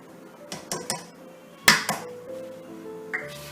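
A spoon clinks and taps against a pan while butter, milk and sugar are mixed for chocolate burfi, giving a few scattered knocks and one sharp ringing strike in the middle.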